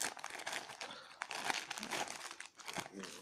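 Paper wrappers crinkle and rustle while a parcel from China is unboxed, with soft crumpling and tearing sounds at close range, quiet and continuous.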